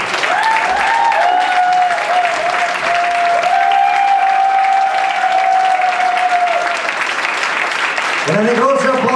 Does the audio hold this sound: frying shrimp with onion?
no